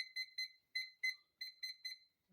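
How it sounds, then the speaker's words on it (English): A kitchen timer beeping in a quiet kitchen after being set for pizza, giving a rhythmic run of clear, shrill electronic beeps in short bursts of two or three, close and alone. "and then we set the timer."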